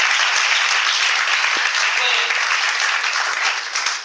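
A church congregation applauding and cheering, loud dense clapping from many hands sustained throughout, with scattered voices mixed in.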